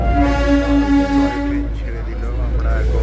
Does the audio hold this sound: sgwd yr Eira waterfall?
no